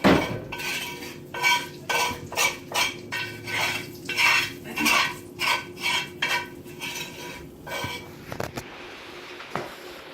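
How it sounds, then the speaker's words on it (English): Metal utensil scraping and rasping across a cast iron skillet to clear out cooked scraps, a steady run of rhythmic strokes with light clinks near the end, close and clear with no talking. "Let me clean some of this stuff out of this cast iron."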